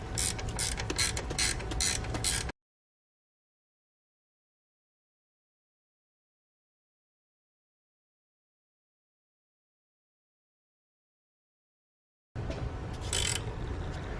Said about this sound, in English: And then you'll tighten the 2 bolts that hold the alternator in set and spot.